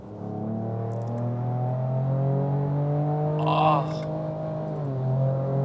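A 2023 Ford Ranger Raptor accelerates hard in third gear in manual mode, its engine note climbing steadily and loudly from inside the cab, then dipping briefly at an upshift before pulling again; a short exclamation is heard midway.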